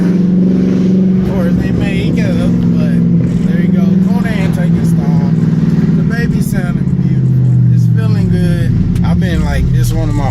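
A 392 V8 car engine fitted with a JLT cold air intake rumbles steadily as it drives, pitch shifting with gear changes, while someone talks over it the whole time.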